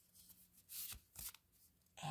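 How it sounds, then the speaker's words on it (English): Deck of oracle cards being shuffled by hand: several quick riffling bursts, close and fairly quiet, with short pauses between them and no talking over them. "As I shuffle the deck"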